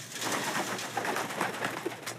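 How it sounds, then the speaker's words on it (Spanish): Several birds cooing and fluttering close by in a continuous, busy chorus with soft rustling. "Tenemos muchos pájaros arriba."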